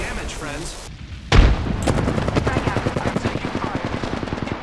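Apex Legends match audio: rapid automatic gunfire crackles in a dense, steady stream, broken by a sudden heavy grenade explosion, and the shooting resumes right after at close range.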